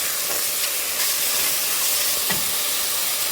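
Mango pieces and green chillies for a South Indian mango dal sizzle in a pan, a dense, loud, steady hiss with no voices over it.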